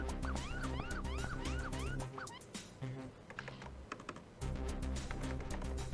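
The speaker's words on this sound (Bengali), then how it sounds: "আচ্ছা বাইরে পুলিশের সাইরেন বাজছে।" A police siren outside wails up and down several times, fairly loud, mixed with music and rapid keyboard tapping indoors at an office, then fades as other noise continues.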